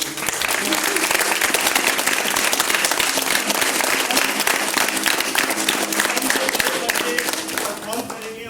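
A children's theatre festival audience claps loudly and continuously, dense applause holding throughout before easing slightly at the end.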